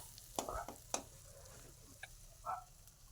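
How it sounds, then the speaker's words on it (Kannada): Egg bhurji frying in a pan, a quiet sizzle broken by a few sharp scrapes and taps of a spatula stirring the scrambled egg, close by and without talk. "ಚೆನ್ನಾಗಿ ಫ್ರೈ ಮಾಡ್ಕೋಬೇಕು"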